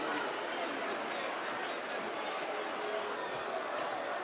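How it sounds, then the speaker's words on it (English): Football crowd at a Millwall match booing after a late 1-0 winner, with kids running onto the pitch; a steady, broad roar of jeers and noise from the stands, continuous and fairly distant throughout. "Bit of booing."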